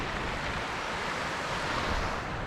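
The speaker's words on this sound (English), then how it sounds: "Typical Tenerife black sand beach," Steady, close surf on a black volcanic sand beach in Tenerife, waves washing in a continuous broadband roar with some wind buffeting the microphone and no voices.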